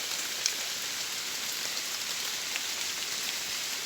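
Rain falls steadily onto surfaces outdoors, a dense, even hiss with occasional louder drops and no voices.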